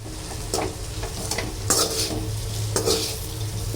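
Boiled vermicelli is stirred into a tempering in a hot pan, a busy sizzle with repeated scraping and clinking of a spoon against the metal, close and fairly loud.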